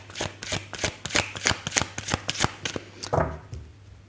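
Angel oracle cards shuffled by hand in a quiet room: a steady run of crisp, close riffling snaps about every quarter second, then a softer rustle near the end.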